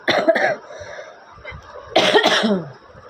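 Two bouts of harsh, close coughing, a short double cough at the start and a louder burst after a brief pause.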